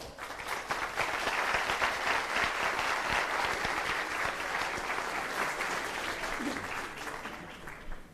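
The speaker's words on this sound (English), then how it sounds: "give them a warm round of applause" A conference audience at an airport industry congress gives warm, sustained applause, dense steady clapping from many hands that holds evenly before tapering off at the end.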